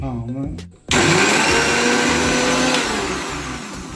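A voice speaks briefly, then a mixer grinder crushing ginger, green chillies and garlic switches on abruptly and runs as a loud, continuous motor whir to the end.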